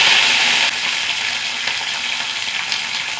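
Curry leaves fry in hot oil with a loud, close sputtering hiss that flares at the start, then settles into a steady sizzle.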